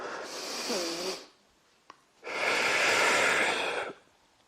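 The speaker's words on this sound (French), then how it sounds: "J'expire quand je monte en écrasant le ventre." During an at-home ab and core exercise, two long, loud, forceful breaths are taken close to the mic, a rough exhale and then an inhale, with a brief click in the pause between.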